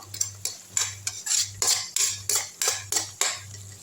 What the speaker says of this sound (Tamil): அரைச்ச கடுகு, சீரகம், வெந்தயம், கருவேப்பிலை இதெல்லாம் போட்டு நல்லா வதக்கி விட்டுருங்க